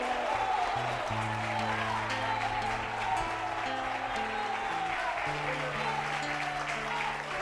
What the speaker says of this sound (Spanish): dé un fuerte aplauso al Señor Jesucristo